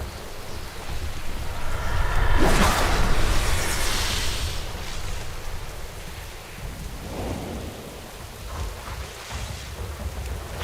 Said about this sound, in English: Should hear some storm business.